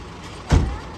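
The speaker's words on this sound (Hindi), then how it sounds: "ये एसडीएम की गाड़ी जो है जाती हुई," The SDM's car pulls away at an outdoor school annual day event, a brief close whoosh of engine and tyres swelling and passing within a second over steady background hum.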